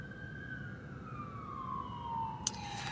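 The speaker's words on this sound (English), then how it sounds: "Okay, I hear the sirens." Emergency vehicle siren, a single drawn-out tone gliding slowly downward over a low rumble of background noise, with a short sharp click near the end.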